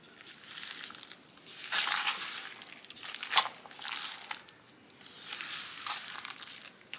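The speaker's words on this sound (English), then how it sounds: "So now I'm just going to mix it all up." Buffalo sauce and shredded cheese are stirred together in a bowl, giving close, soft wet squelching and crinkly scraping in uneven swells, with no talking.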